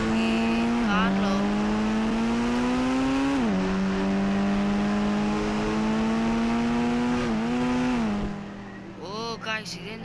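A police car drives in the Indian Bike Driving video game, its engine a steady loud synthetic drone whose pitch climbs and drops back twice, then cuts out, leaving brief sounds near the end.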